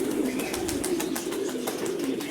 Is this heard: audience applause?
no